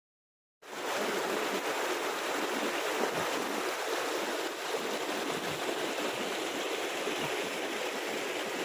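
A mountain river, the Reshi in Sikkim, rushes steadily over stones, a dense, even roar of flowing water that starts abruptly and continues without pause or voices.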